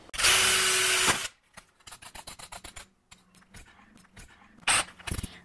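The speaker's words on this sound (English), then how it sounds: "So first I'll make a small pilot hole." Small pilot hole drilled into a copper disc: one loud, steady burst of drilling up front, followed by a run of short clicks and scrapes and then a couple of brief louder bursts near the end.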